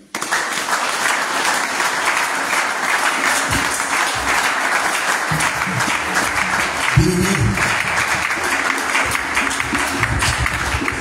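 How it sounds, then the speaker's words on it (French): A congregation applauds during a French-language church service, a sustained wash of loud clapping for about eleven seconds with a few stray voices and thumps mixed in. "Acclamez le Seigneur."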